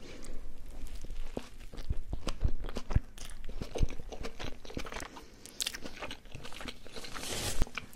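Close, crisp crunches and bites of McDonald's food, likely potatoes with cheddar, repeat irregularly alongside wet chewing for several seconds in an intimate eating setting, with no talking.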